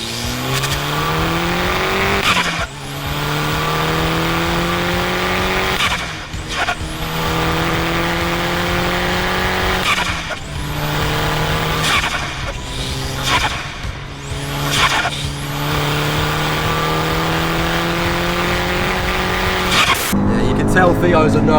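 A turbocharged four-wheel-drive VW Jetta fitted with a Golf R conversion accelerates hard through repeated gear changes, the engine rising in pitch then dropping at each shift, loud and close from inside the car.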